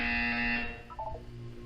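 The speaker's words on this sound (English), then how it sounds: "You will hear a buzzer." A loud electronic buzzer from the video game Portal 2 sounds once, a steady harsh tone lasting about half a second before cutting off into a low hum.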